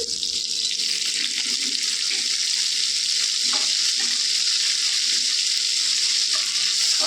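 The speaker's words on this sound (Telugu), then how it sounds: "కరివేపాకు కొద్దిగా వేగిందండి, ఎక్కువ అవసరం లేదండి" Coriander and curry leaves fry in a pan for a Telugu chutney, with a steady, fairly loud hiss of sizzling oil and occasional soft stirring clicks.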